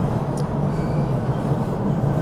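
A Boston subway train rumbles through Davis Square station, a loud continuous low roar with rail rattle and a faint brief squeal, close and steady.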